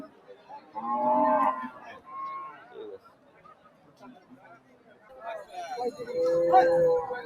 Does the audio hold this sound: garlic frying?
no